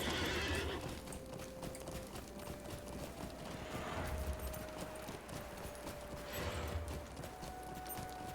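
Horse hooves clip-clopping at a steady gallop in the online game Lord of the Rings Online, a continuous rhythmic drumming with whinnies, heard clearly with no talk over it.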